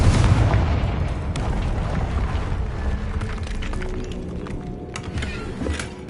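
A Confringo fire spell bursts in Hogwarts Legacy on hard difficulty, opening with a loud booming blast that rolls into a dense, rumbling tail with smaller pops and crackles scattered through it.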